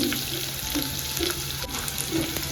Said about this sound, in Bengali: বাটারটা মেল্ট হওয়ার সাথে সাথে রসুন কুচি পুরোটা দিয়ে দিচ্ছি